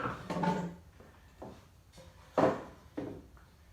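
Wooden drawers from an antique cabinet are handled up close, giving several separate knocks, slides and thumps of wood on wood with short pauses between them.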